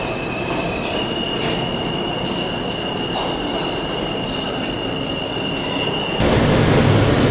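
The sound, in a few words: riding a train in Japan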